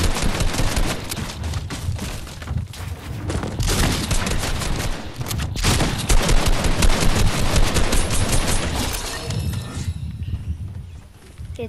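Rapid gunfire bursts in a Fortnite season 8 match, dense and loud throughout, with overlapping shots and footstep-like thuds, easing slightly near the end.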